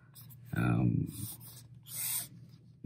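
Sailor Pro Gear Slim fountain pen with a zoom nib scratching across paper in two close strokes, a longer one and then a shorter one, with quiet gaps between them.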